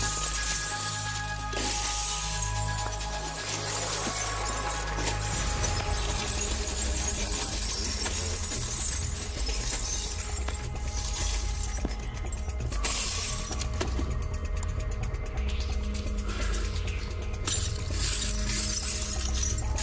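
Glass bottles being smashed and broken on a stage magic show, a long stretch of repeated shattering crashes and tinkling shards, loud and close throughout.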